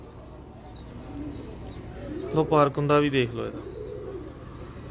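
Rampuri pigeons in a breeder's loft give a short run of soft, throaty coos, close and fairly clear, rising briefly over a low background hum while someone speaks nearby.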